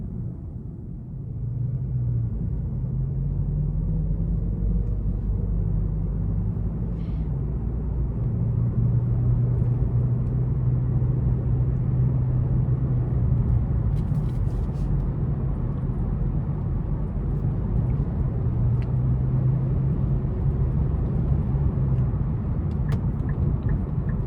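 Steady cabin road noise inside a 2026 Nissan Sentra SR with a CVT, driving in eco mode in traffic: a constant low rumble and tire drone throughout, with no talking.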